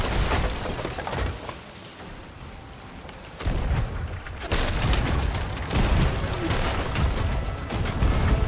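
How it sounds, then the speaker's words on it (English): Ship cannons firing during a naval video game battle, heavy booming volleys arriving in several loud clusters with rumbling tails, mixed with crashing impacts and sea-battle clatter. "He dropped sails while still falling, firing his cannons."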